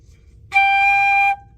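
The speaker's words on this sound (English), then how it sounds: "G sounds like this." One steady flute tone, G, played alone, bright and sustained for under a second before stopping cleanly.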